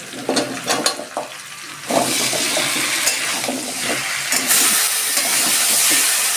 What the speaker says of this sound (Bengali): দেখুন সবজিগুলো আমার মশলার সাথে একটুখানি ভাজা হয়ে গেছে